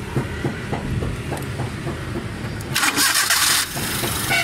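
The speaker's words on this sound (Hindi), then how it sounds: "गाड़ी स्टार्ट कर देना" A Suzuki Alto 1000cc with a carburettor fuel and misfiring problem cranks with rhythmic chugging, then catches and revs briefly, loud and close.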